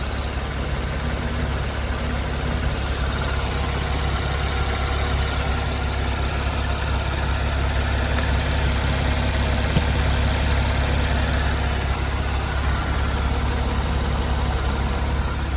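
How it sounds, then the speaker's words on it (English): A 2009 Porsche 911 Cabriolet with a 3.6 engine idles close by in a steady, even hum that holds unchanged throughout with no revving and no voices. "just so you can hear the engine idling"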